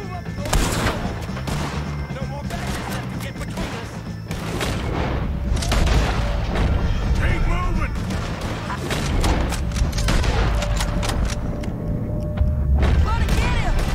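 Gunfire and booms in Red Dead Redemption 2 during a shootout with O'Driscolls, dense repeated shots and blasts layered with game music and shouting voices throughout.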